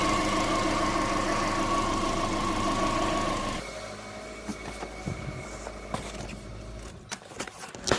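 A car engine with a cooling problem, about eight minutes into running with coolant pressure climbing, idles loudly for several seconds, then cuts to quieter scattered knocks and clicks.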